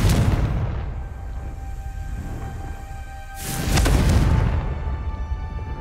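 A Confringo fire spell blast in the Hogwarts Legacy video game, heard as a loud booming burst partway through, set against a continuous rumbling game soundscape.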